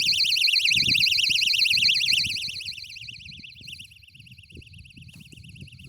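An audio locator alarm on a disc golf basket emits a loud warbling electronic tone that repeatedly sweeps up and down, fading somewhat partway through, over soft low rustling and handling noise outdoors.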